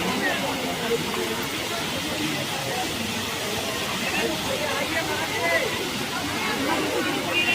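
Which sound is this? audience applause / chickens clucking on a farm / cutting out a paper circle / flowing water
flowing water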